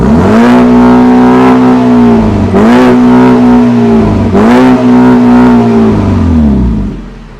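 A VW Golf Mk6 GTI tuned to Stage 4 revs hard at standstill, its engine note climbing and holding three times in long, loud, close pulls before dropping away at the end.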